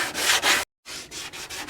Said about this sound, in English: You can see that we still have some areas that need sanding